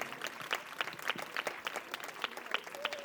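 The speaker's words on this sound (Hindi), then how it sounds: "ताली बजती रहनी चाहिए" Audience clapping at a tribal day celebration in Khertha village: rhythmic, evenly spaced claps from a gathered crowd, moderately faint and steady throughout.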